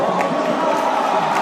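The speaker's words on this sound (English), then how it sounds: "that's a cheer to compete with the cheer of the Indonesian fans behind Poirier" Indonesian fans roar and cheer at a 2018 Asian Games 1500m freestyle swimming race, a loud, continuous crowd cheer that fills the whole moment.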